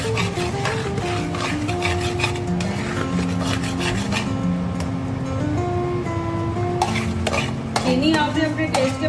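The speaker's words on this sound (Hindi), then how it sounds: "गाजरें सब ड्राई होने तक आपने अच्छे तरीके से इसे भून लेना है" Grated carrots roasting in oil are stirred with steady scraping and rubbing strokes against the pan over a low sizzle, close and continuous, with tonal sounds from the kitchen running underneath.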